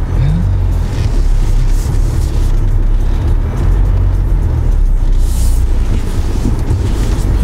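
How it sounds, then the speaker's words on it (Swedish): A Jaguar XE car drives with a steady, loud low engine and road rumble heard from inside the cabin, continuous without clear revving. "Det är kul att köra Jaguar."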